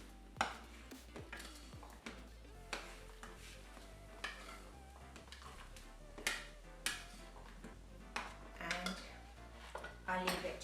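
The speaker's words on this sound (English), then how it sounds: "I'll just give it a little stir." Warm chickpeas and potatoes for a puri chaat mixture being stirred in a bowl, with repeated clinks and scrapes of a spoon against the dish at an irregular rhythm, close and fairly quiet.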